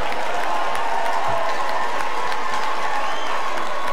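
Audience applause with some cheering at the Corso 2018 parade prize ceremony, loud and continuous crowd clapping heard in a large space throughout.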